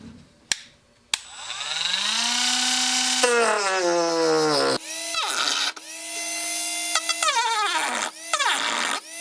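Rotary tool cutting into a plastic Jeep Wrangler bumper, a high whine spinning up and then grinding in several bursts as it bites into the plastic and pulls free, with clicks at the start.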